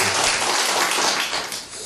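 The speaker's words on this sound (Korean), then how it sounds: "다시 박수 한번 주겠습니다" An audience at a senior citizens' church college class gives a dense burst of steady applause that fills the space, then tapers slightly near the end.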